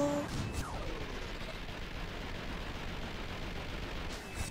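Rumbling explosion and gunfire in the video game Vanquish, a dense, steady roar lasting several seconds, loud and broadband with brief sharper hits at the start and end.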